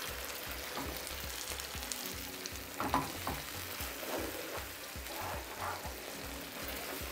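Chicken kharcho with bulgur braises in a pan, a steady close sizzle and bubbling with a few faint scrapes of stirring partway through, continuous and without speech.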